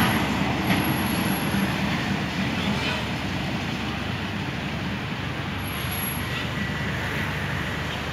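A TPI freight train hauling cement and fertilizer wagons rolls past a railway junction station in Thailand, a steady rumble of wheels with brief high squeals.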